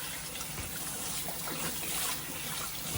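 Water running over raspberries in a colander, a steady close trickle and splash with no talk.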